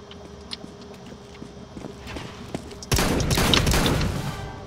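A shotgun fires in a Counter-Strike: Global Offensive deathmatch: scattered light game noises build to a sudden loud blast, followed by sustained dense, roaring gunfire to the end, with no talking.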